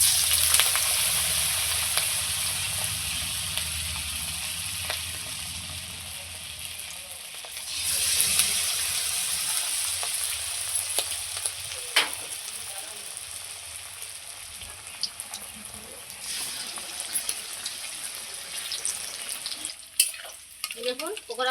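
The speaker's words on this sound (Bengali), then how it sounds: "এই দেখুন ঠিক একইভাবে আমি সমস্ত পকোড়াগুলো ভেজে নেব" Ash gourd pakoras frying in hot oil give a steady, close sizzle with soft stirring and scraping, running the whole stretch and growing busier with clinks near the end.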